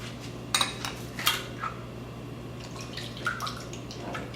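Soft clinks and scrapes of a utensil against a bowl mixing egg white, water and vanilla, a few scattered taps and stirring sounds over a steady low hum.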